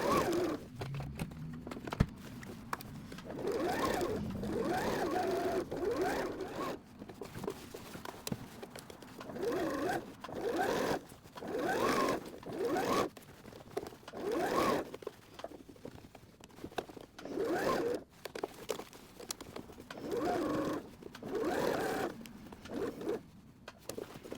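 Sewing machine stitching over a worn seam to reinforce a chub-rub patch on clothing, a steady run of rapid mechanical stitching bursts with brief pauses, close and clear.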